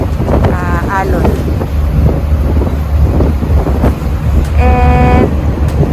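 Wind and sea waves rushing past a ferry on a calm sunny crossing, loud continuous buffeting with brief horn-like tones and faint voices underneath.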